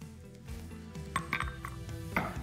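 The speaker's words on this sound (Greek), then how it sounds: "Βάζω το νερό μαζί με τη ζάχαρη σε ένα κατσαρολάκι εδώ." Water and sugar going into a small saucepan while making Italian meringue, heard as a few light metallic clinks and knocks of pan and utensils over a steady low background, with no talk.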